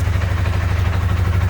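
A Polaris machine's engine runs with a steady, loud low throb, rising slightly in revs while the battery light blinks.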